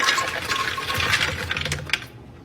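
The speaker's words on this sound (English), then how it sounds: "We got 2½ cup of walnuts going in." Two and a half cups of walnuts poured into a bowl for vegan brownies, a dense run of small hard pieces clattering and rattling close up, steady for about two seconds before tapering off, with no talking.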